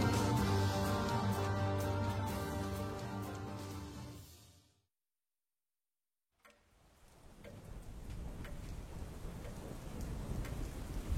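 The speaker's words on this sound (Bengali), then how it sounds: "আজ সকাল থেকে যখন ঝিরঝিরে বৃষ্টি নিয়ে আকাশ কালো করে এলো" Light drizzling rain falls under a darkened morning sky, a soft continuous patter that fades in after music stops and a moment of silence.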